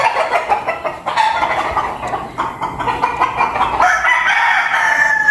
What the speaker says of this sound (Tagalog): Nagpa-practice ng mga manok